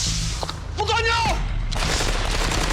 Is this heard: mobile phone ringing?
no